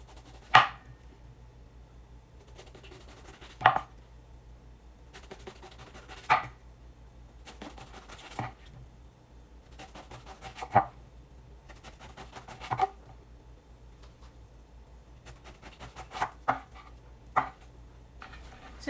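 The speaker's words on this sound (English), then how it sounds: "now I'm going to cut this uniformly 1/2 inch thick slice" A knife slicing an eggplant into half-inch rounds on a cutting board, making sharp, moderately faint chops spaced a second or two apart, with soft handling noises between them.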